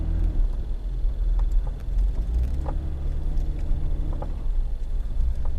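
A Jeep Wrangler JK in 4-wheel high idles and creeps over a dirt trail, its engine a steady close rumble with faint creaks and ticks over it.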